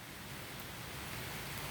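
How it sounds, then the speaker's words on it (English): Rain falling outdoors, a steady, even hiss of drops that holds at a constant level throughout, with no voices. "It's starting to rain real good now."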